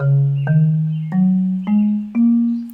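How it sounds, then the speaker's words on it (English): Marimba preset in BandLab's percussion section plays four separate mallet notes, each stepping slightly higher in pitch, with a clean bright attack and smooth sustain, alone and close. "I'm going to use the marimba."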